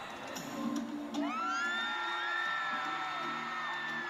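A crowd of fans at a UNIS fan signing event at Ayala Malls Market in the Philippines cheering and screaming, with sustained high-pitched shrieks and whoops rising after a brief murmur.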